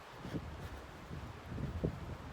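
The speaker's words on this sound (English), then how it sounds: "that wind's just a whipping" Wind gusting through a pine forest, a low steady rumble with occasional stronger buffets against the microphone, fairly faint overall and without speech.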